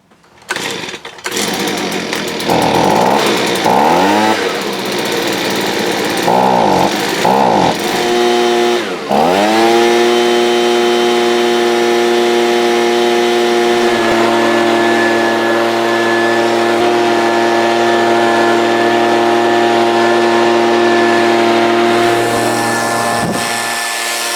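A Stihl gas leaf blower that had been bogging down is pulled and coughs through several sputtering starts, then catches and runs at a loud, steady rev that rises partway through and holds.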